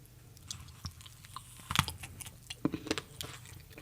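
Crunchy cake is bitten and chewed close to the microphone, with quiet irregular crunches and one sharp loud bite midway, ASMR style, without talk.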